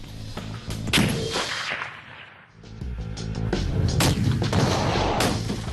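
Rifle shots from a 416 rifle at long range, heard as sharp cracks with a dense, booming mix that swells and dips across the clip.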